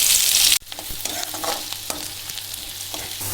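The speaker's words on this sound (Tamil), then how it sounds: "இப்போ வெங்காயம் வதங்கிடுச்சு." Onions and green chillies sautéing in hot oil, a steady hiss broken by a sharp cut near the start, followed by softer sizzling and occasional stirring scrapes.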